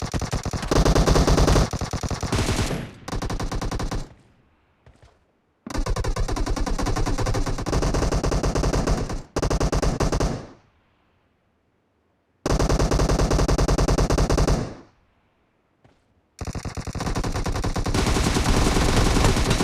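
PUBG video game gunfire: loud, close bursts of rapid automatic fire in several long volleys, each cut off by short silent gaps.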